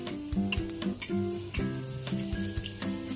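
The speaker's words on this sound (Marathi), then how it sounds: "तो अगदी हळूवार आपण त्याच्यावर तूप टाकून त्याला तळतो आहे" Anarsa sweets frying slowly in hot ghee over a low flame, a steady close sizzle with faint scraping and stirring knocks scattered through, no voices.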